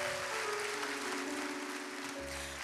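Audience applause at a large solo concert in the Heydar Aliyev Palace, a sustained wash of clapping from a big crowd, fairly loud, with steady musical tones humming beneath it.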